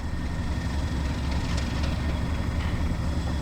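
Heritage steam locomotive Dinmore Manor runs on the Gloucestershire and Warwickshire Railway during an autumn gala, a steady, loud, broad rumble of engine and rolling train with no voices.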